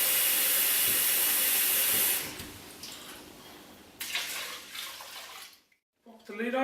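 Tap water gushing into a cooking pot in a home kitchen, a loud bright hissing stream for about two seconds, then quieter splashing and a brief pause before another burst.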